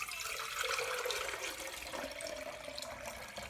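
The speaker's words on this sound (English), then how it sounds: "Now I'm going to add water to within about 2 inches of the top." Water pours in a steady, rushing stream into a French press sitting on a kitchen scale, close and continuous, with the tone shifting slightly as the press fills.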